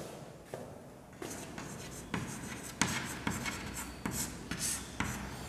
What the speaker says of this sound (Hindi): तो सबसे पहले हम इसका अलंकार का लक्षण लिखेंगे।